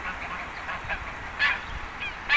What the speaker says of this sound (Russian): Гуси, утки, куропатки, чайки, какая разница.